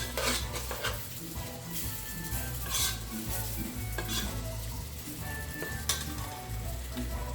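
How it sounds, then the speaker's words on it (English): Red beans for Caribbean red beans and rice sautéing in a pan, a continuous close sizzle with repeated scraping and clinking of a utensil stirring against the pan, no voices. "Now I'm going in with my beans. Saute this around."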